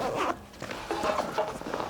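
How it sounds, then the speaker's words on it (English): A zipper on a tactical bag's bottom pocket is pulled in a few quick, raspy strokes, close up and clear with no talking. "there's also a zipper in the bottom, so you can go all the way through depending on what kind of kit you're carrying"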